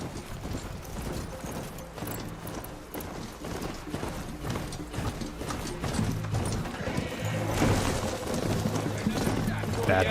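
Horse galloping in the video game Horizon Zero Dawn, a steady run of hoof clip-clops with an occasional whinny, set against game music and ambience with a voice talking over it.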